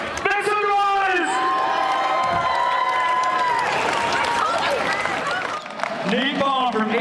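A lively outdoor community celebration crowd at Seattle Center makes noise, cheering, whooping and clapping at a loud, constant level, with shrill calls rising and falling across the whole stretch.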